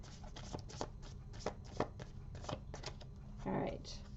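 Quick papery riffling and soft slaps of tarot cards being shuffled by hand, a run of brisk bursts ending in a longer riffle.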